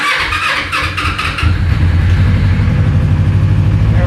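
A Kawasaki Ninja 250 twin-cylinder motorcycle, choked and being built as a superbike, cranks briefly and then catches, settling into a loud, steady, close idle.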